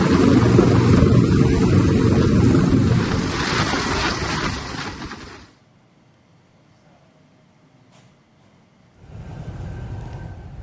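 Military helicopter after landing during flood relief delivery, its loud close rotor and engine roar running steadily for several seconds, then cutting off abruptly to near silence before a noisy roar returns.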